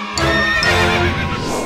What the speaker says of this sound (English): it's time to bring in the horses